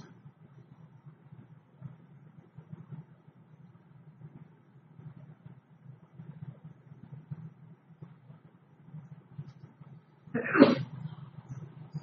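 A single loud sneeze bursts out near the end, cutting sharply above a faint, steady low hum in an otherwise quiet classroom.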